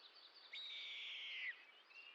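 Red-tailed hawk screaming from a distance: a single long, harsh, descending scream of about one second over a quiet background.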